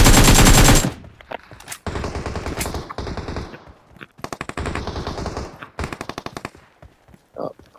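Rapid automatic gunfire in the PUBG battle royale game, loud sustained bursts of rattling shots separated by short pauses, with several clusters firing in quick succession.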